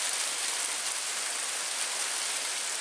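A steady, hissing patter of sleet falling on surfaces in cold weather, even and continuous, soft but close, with no voices.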